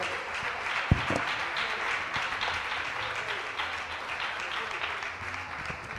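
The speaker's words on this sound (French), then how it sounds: "clap for the Lord" A church congregation at a Sunday service claps steadily and loudly in a dense crowd, with voices mixed into the applause.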